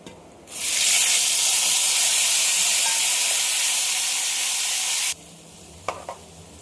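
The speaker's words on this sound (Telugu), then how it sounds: "ఇది మెంతులు, ఆవాలు పౌడర్ ఆయిల్లో ముందు వేసేసుకుంటాము" Fenugreek and mustard powder dropped into hot oil, with a loud, sudden burst of sizzling that holds steady for several seconds and then cuts off abruptly, followed by a couple of faint clinks.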